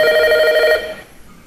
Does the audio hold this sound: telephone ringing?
yes